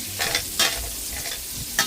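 Hard sun-dried tomatoes fry in a pan for marry me chicken, a close, continuous sizzle broken by a few bursts of stirring scrapes, with no talking.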